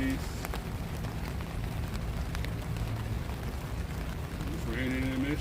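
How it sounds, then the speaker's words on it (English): Steady patter of rain falling in Washington D.C., a soft continuous hiss under occasional faint voices, with a brief tonal chime near the end. "It's raining here in D.C."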